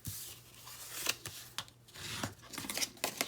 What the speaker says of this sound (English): let's go ahead and burnish this